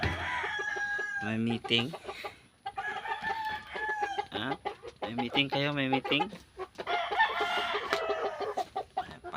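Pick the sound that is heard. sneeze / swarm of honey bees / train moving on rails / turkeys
turkeys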